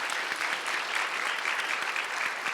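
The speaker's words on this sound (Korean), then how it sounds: "우리 뜨거운 박수로 격려 한번 합시다" A church congregation gives warm, sustained applause, dense clapping from many hands filling the room evenly for a few seconds, with no speech on top.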